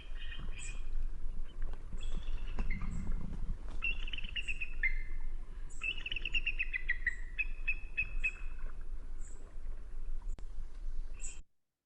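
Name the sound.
bald eagle calls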